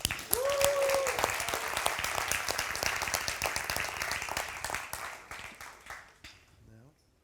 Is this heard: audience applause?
yes